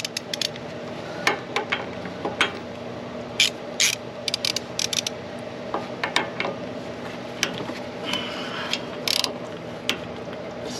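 A ratchet wrench clicks steadily as it turns a socket to tighten an upper control arm bolt on a 2019-2024 Ram 1500, with bursts of quick close pawl clicks over a low steady hum.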